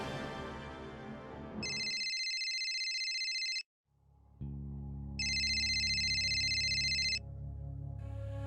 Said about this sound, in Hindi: बस परी जी का घर का नंबर ही ट्राई कर रहा हूं मैं।